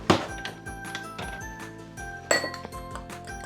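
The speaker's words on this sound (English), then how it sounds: "we're going to beat the egg up a little bit" An egg beaten in a bowl for Swedish-style meatballs, giving rapid light clinks and taps of utensil against the dish, with two louder knocks near the start and midway.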